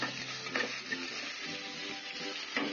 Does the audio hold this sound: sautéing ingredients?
yes